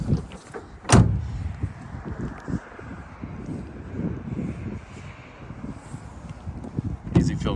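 Tailgate of a 2024 Chevy Silverado LTZ 1500 pickup shut with a solid thump early on, a second clunk at the end, amid outdoor wind rumble and light handling noise.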